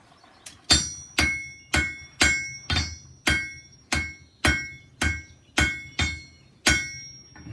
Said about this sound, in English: A good blacksmith can make a nail in just a couple of minutes, and you'd hear a real rhythm of going.